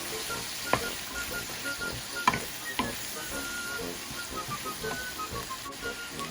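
Cubed white squash (upo) stir-fries in a hot pan with a steady, close sizzle, punctuated by a few sharp clinks and scrapes of stirring.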